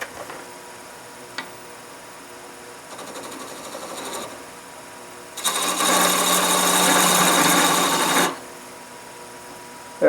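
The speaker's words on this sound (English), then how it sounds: "I'm going to take my skew chisel, and I'm just going to make a little indentation mark at each one of those marks" A skew chisel cuts indentation marks into spinning wood on a lathe, a faint machine hum with two brief cutting bursts, the second louder and lasting about three seconds.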